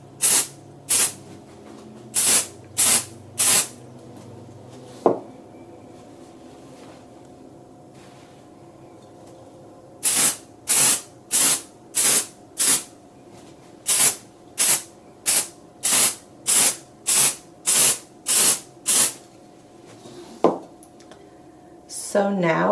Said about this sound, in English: I'm going to take a little bit of the temporary spray adhesive and spray it on the back very lightly